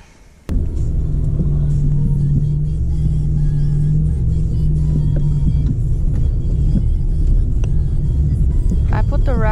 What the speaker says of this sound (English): I put the RAV in four-wheel drive mode, I didn't deflate the tires, and off I went.